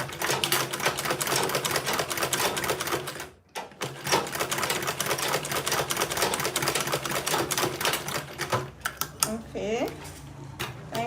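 A sewing machine runs in rapid, steady stitching bursts while sewing Ankara fabric into a tote bag, with a brief pause near the middle, then stops for some handling clatter and a short stretch of speech.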